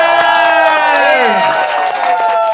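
A loud live audience at a comedy roast erupts in cheering and whooping, with shouted voices rising and falling over a backdrop of clapping.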